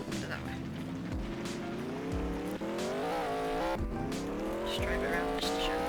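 A supercharged truck engine in the Roblox Mad City game drones steadily with rising and falling pitch as it accelerates, with tire squeals mixed in, while a voice talks over it throughout.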